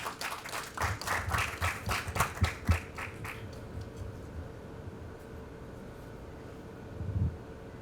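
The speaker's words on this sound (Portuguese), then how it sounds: "salva de palmas." Audience applause at an architecture award ceremony during a diploma presentation: a burst of hand clapping that swells for about three seconds, then thins out to scattered, fading claps, with a brief low rumble near the end.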